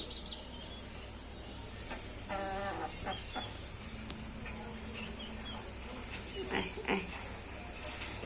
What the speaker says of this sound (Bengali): এই যে এটা হচ্ছে মোরগ বাচ্চা